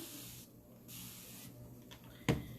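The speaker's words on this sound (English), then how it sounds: "I'm going to spray it down" Several quick, soft hissing spritzes from a spray bottle, close by, with a small knock near the end.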